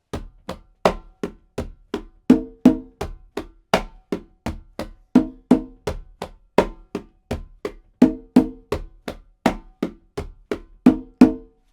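Steady conga pattern of crisp slaps and resonant open tones in a repeating salsa rhythm, close and alone, with no talking.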